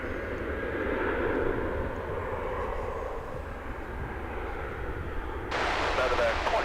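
A Continental Airlines jet airliner at DFW Airport rumbles steadily at a distance, a broad low engine roar with a brief burst of radio chatter near the end.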